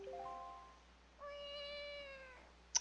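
Link, the hero of Zelda: Wind Waker HD, imitates a cat with two quiet, drawn-out video-game meows in sequence, the second longer and rising, followed by a tiny bright click, with no talking.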